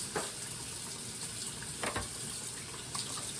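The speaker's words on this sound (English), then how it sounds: "Give it a good rinse." Tap water runs steadily into a kitchen sink as cut salmon pieces are rinsed, a continuous close splashing stream with a few brief louder spatters.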